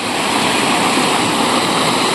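Thin, steady rush of a waterfall with low flow, moss-covered and weak, an even broadband hiss of falling water that runs unchanged throughout with no voices.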